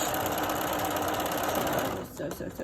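Steady, fast mechanical whirr of a sewing machine back-stitching a 1/4 inch seam on a fabric face mask, running continuously and close before slowing and stopping near the end.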